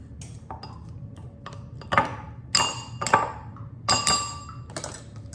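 A fork clinks and taps against a bowl while chopping up very ripe strawberries for a strawberry cake: irregular bright metallic pings, several sharp strikes in uneven rhythm, close and clear with no talking.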